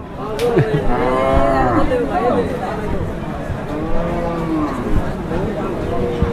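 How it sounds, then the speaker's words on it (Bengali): Australian-breed cattle at a busy rural livestock market low repeatedly in long mooing calls, loud and close, over a constant murmur of crowd chatter and people talking nearby. "সবই অস্ট্রেলিয়ান গরু এই পাশে।"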